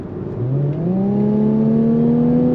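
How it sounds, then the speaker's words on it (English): A 2019 Infiniti Q50 Red Sport 400 with a 7-speed automatic accelerating under throttle, engine drone rising smoothly in pitch from inside the cabin, loud and continuous with no talking. "with that 7-speed automatic transmission, you just step on the throttle"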